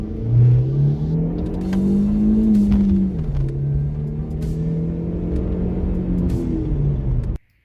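A Holden Barina/Corsa SRI hatchback with its stock airbox is driven along, its engine giving a steady, moderately loud drone that rises and eases off as it revs, then cuts off abruptly, with no talking.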